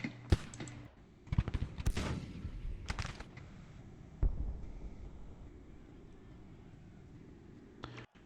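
24-pounder cannons fire in the Civil War strategy game Grand Tactician: The Civil War. Several booming shots land at irregular intervals, some in quick clusters, followed by a quieter rumbling tail.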